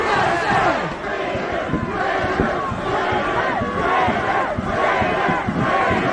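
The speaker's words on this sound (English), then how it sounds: "They're screaming, traitor, traitors." A large, energetic crowd outside the U.S. Capitol shouts and chants "traitors" in repeated rhythmic waves, loud and dense throughout with many overlapping voices.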